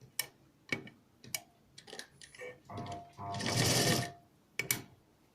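A sewing machine stitching cord piping onto a kurti neckline runs in short, quiet bursts, with sharp clicks between them and one longer whirring run near the end.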